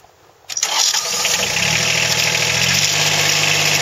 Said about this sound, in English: We'll go ahead and fire this sucker up and show you how it runs.